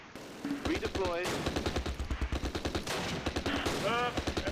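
Rapid bursts of gunfire from the war strategy game Close Combat: Last Stand Arnhem rattle in a dense, rhythmic string of shots, heard up close, with speech over them at times.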